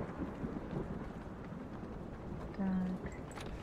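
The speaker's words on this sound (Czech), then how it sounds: "A ta bouřka do toho je drsná." Thunderstorm in the game Blair Witch: steady rain hiss with low rumbling, faint and continuous beneath someone talking.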